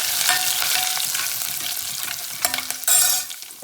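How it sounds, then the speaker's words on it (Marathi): Garlic, coconut and curry leaves sauté in a hot pan with a close, loud sizzle, and a spoon stirs against the metal, ending in a sharper scrape and clatter; no speech. "हे चांगलं आपल्याला मिनिटभर परतून घ्यायचं आहे"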